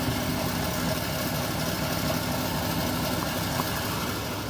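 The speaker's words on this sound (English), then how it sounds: "we got the car out and running" A 1956 Oldsmobile engine idles steadily after a battery boost, a low even rumble with light mechanical vibration, held at a constant level with no talk.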